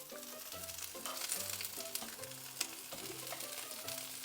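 Food sizzling and caramelising in a hot pan while making steak and broccoli, a continuous close crackling sizzle with occasional stirring clinks and scrapes, no talk.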